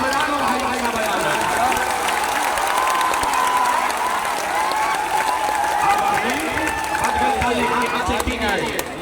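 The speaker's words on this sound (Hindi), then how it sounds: "अब ताली बजा लो भाई, भाई का बजाना" A political rally crowd in Bihar claps steadily and densely, a loud continuous wash of hands with crowd chatter and shouts mixed in throughout.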